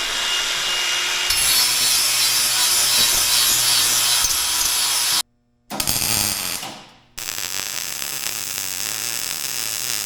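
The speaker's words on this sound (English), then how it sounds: "We'll sand off this paint" A power sander grinds paint off a steel utility trailer axle, a loud harsh continuous rasp that stops briefly twice, with the motor spinning down during the second pause, before resuming at full strength.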